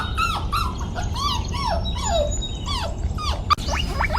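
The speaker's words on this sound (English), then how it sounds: "Dog." A dog makes a run of rising and falling whimpering yelps, close and fairly loud over steady low background rumble, with a sharp knock near the end.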